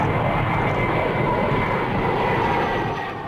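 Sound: military jet fighter aircraft flying

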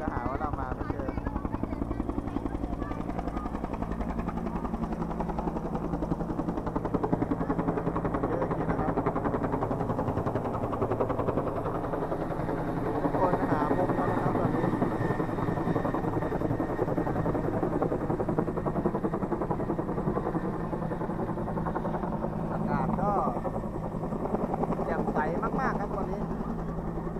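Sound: aircraft flying over Rajabhakti Park, Hua Hin

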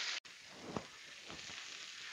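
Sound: pork neck steaks and potatoes frying in a pan

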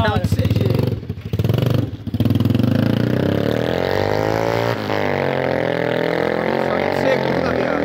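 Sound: small motorcycle with 100cc engine accelerating hard

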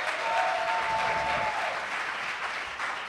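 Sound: audience applause at film awards

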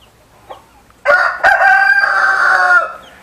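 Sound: rooster crowing

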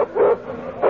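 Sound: dog barking and whimpering

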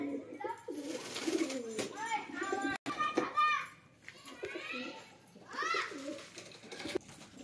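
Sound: pigeons cooing

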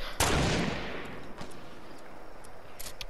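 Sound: gunshots in Fortnite video game

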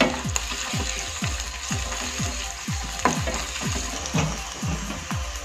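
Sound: frying ingredients in a pan for Mysore bonda

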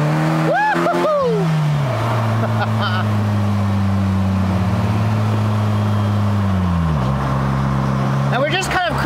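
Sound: Polaris Slingshot GT engine revving while driving

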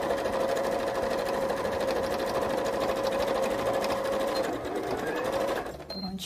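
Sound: sewing machine zigzag stitching on felt

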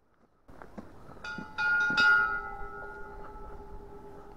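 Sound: ringing bell of Cruz bell

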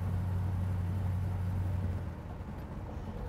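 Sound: 1969 Chevrolet El Camino engine while downshifting

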